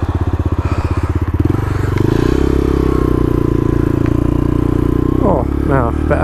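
A motorcycle engine started on heavy choke putters with a rapid pulsing beat, then settles into a loud, steady close-up idle with some clattering near the end; a voice speaks briefly over it.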